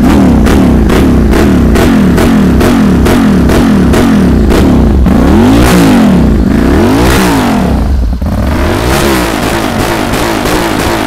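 A 2015 motorcycle engine is revved hard and close, in repeated rising and falling throttle blips with a rhythmic mechanical clatter throughout, and no voices.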